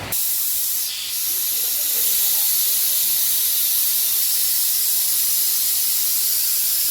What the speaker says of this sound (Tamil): இப்போ பார்த்தீங்கன்னா 4 விசில் வந்துருச்சு. விசில் ரிமூவ் பண்ணிவிட்டேன்.